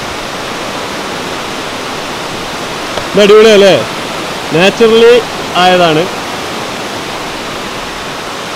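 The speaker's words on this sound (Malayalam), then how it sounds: "വെള്ളത്തിൻ്റെ ഒഴുക്ക് കണ്ടില്ലേ, നല്ല മഴയുണ്ട്" Steady, loud rushing of stream water beneath a living root bridge near Shillong during heavy rain, continuous throughout, with someone briefly talking over it midway.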